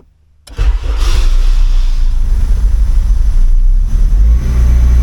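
A 2002 Acura RSX running on E85 cold-starts by push button, a brief crank that catches into a loud, close, steady high idle after about half a second of quiet.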